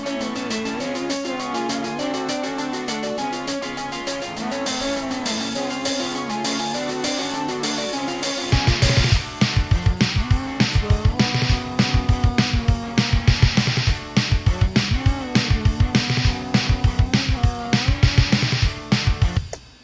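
Music with a sustained synth bed plays alone, then an acoustic-style drum kit enters halfway, a steady driving beat with crisp cymbals and punchy kicks.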